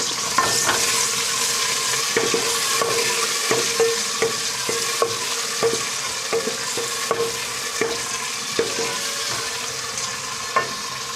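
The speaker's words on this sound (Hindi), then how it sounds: "ऑयल साढ़ा गर्म हो गया, इसमें प्याज पा लेने।" Sliced onions fry in hot oil for aloo matar, a steady sizzle close up, broken by repeated scraping clicks of a spoon stirring the pan at a loose, regular rhythm, with no talking.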